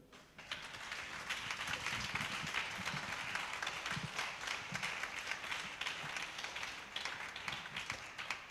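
Church congregation at a Sunday service applauding, a sustained crowd of hands clapping that fills the room at an even level for several seconds, with no distinct speech.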